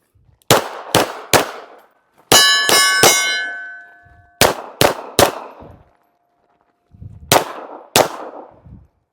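Several sharp pistol shots from a Beretta Cheetah .380 crack in small clusters, each followed by the bright metallic ring of steel targets being hit. The ring lingers between shots, which come up close, loud and with no talk.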